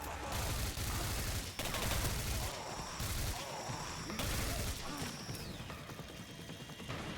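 Gunfire in the video game Singularity, loud bursts of repeated shots near the listener, broken by short gaps, with clatter and impacts between volleys.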